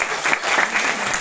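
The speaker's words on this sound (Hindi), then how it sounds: "तो उनके लिए एक बार जोरदार ताली." Audience at a public music performance breaks into loud applause, dense clapping from a crowd, close and steady for a brief moment.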